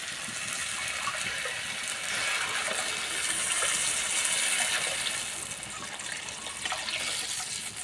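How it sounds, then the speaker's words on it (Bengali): Water poured from a cup onto raw rice in a cooking pot while making egg pulao, a steady gushing splash lasting throughout, fairly loud and close with no talking. "এই কাপে তিন কাপ জল দেবো"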